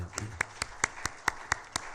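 Sharp, evenly spaced claps ring out in a church during a Sunday service in Jeonju, Korea, about eight distinct hand claps in a steady rhythm, moderately close and fairly light.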